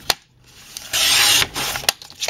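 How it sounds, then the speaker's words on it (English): Paper trimmer slicing cardstock at an angle: one short, close scraping cut of the blade across the card, surrounded by light clicks and taps as the card is positioned. "Now you just want to cut that out at that angle. So take your trimmer, put it in here,"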